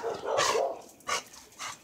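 A dog barks in short bursts at a possum trapped behind glass, a loud burst followed by a couple of sharper, shorter barks close by with no talking.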